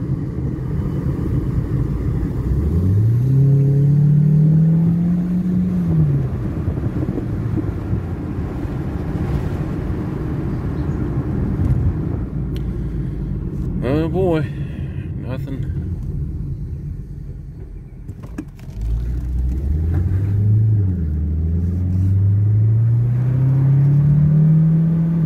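A Ford Focus with a fault that stops it moving forward, out on a test drive, its engine rumbling steadily with two rising tones as it gathers speed, close inside the cabin under continuous talking.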